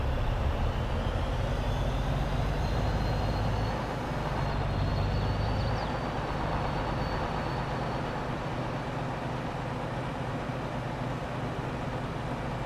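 Truck driving in the Farming Simulator 22 video game, a continuous loud engine drone with a low rumble that shifts in pitch partway through, with no talking.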